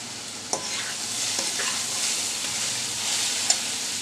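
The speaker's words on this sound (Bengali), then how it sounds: "দুটা শুকনো মরিচকে এভাবে টুকরো করে দিচ্ছি ছোটো সাইজের" Dried red chillies broken into small pieces and dropped into hot oil, giving a steady, fairly loud sizzle with brief sharp crackles near the start and again near the end.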